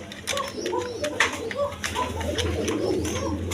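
Iranian Resher pigeon in a farm loft, red checker coloring, giving repeated soft throaty coos in a busy rhythm, close by, with someone talking over them.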